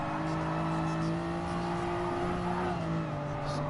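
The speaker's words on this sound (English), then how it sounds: "Revving it out in 3rd, partial break." A race car engine in Gran Turismo Sport revs hard and steady in third gear, its loud, continuous drone shifting pitch slightly under partial braking.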